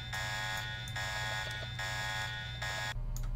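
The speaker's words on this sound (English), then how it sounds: "Activate the alarms." Alarm in the video game Deus Ex: Revision, a harsh electronic buzzer sounding in four pulses of roughly half a second each, loud and regular over a low hum, with no talking.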